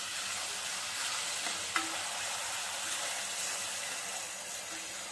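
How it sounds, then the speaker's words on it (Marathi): Onion frying in a pan (kadhai) while being stirred, a continuous bright sizzle at steady volume with a single soft clink of a utensil partway through. "मी कांदा घातलेला आहे आणि आता कांदा चांगला आपल्याला लालसर होईपर्यंत परतायचा आहे।"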